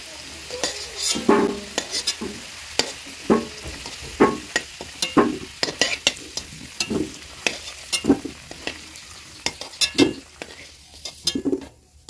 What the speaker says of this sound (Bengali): আলুটা ভাজা হয়ে গিয়েছে, তুলে নেব।